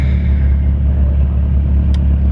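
Turbocharged Caravan at a drag strip, its engine rumbling loud and close in a steady, low drone while it stages, with one brief higher burst near the end.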